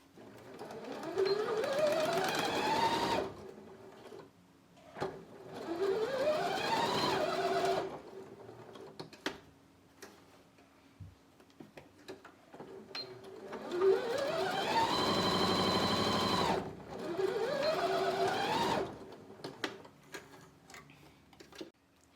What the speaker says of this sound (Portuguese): vou dobrar ao meio e vou fazer uma costura daqui, para um pouquinho no meio, deixo um espaço e costuro novamente